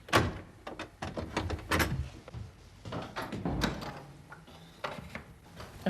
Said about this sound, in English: we lock the inner doors, our inner defence, very thoroughly.